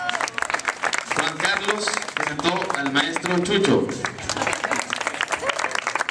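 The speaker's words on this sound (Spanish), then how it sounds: "fuerte el aplauso para ellos" An audience applauds at a school theatre contest performance, dense rapid clapping under an announcer's voice naming participants.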